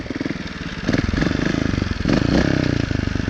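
A 2018 Beta Evo Factory 300 4T trials motorcycle runs close by in a field, its four-stroke engine holding a steady, throbbing note that rises in two throttle swells before settling back.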